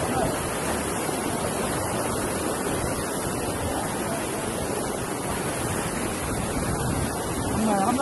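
Steady broadband rush of rainwater flowing continuously down a street, loud and close, with no clear pauses throughout.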